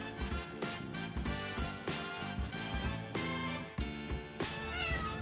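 A cat meows close by in a string of loud, drawn-out cries that repeat in quick succession throughout.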